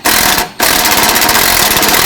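A 10mm bolt holding the e-brake cable on a 2009-2015 Toyota Prius is driven out with a loud, close power tool that rattles continuously, pausing briefly once before running on.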